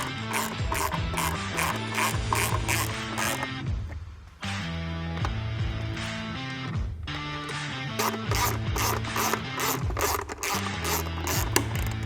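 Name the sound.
ratchet tightening Harley-Davidson sissy bar docking post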